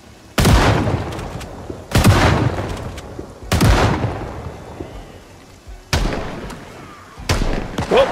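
Bandits fire guns in the video game Project Zomboid, with five loud, booming shots at irregular intervals, each followed by a long rumbling decay, close and alone without talk.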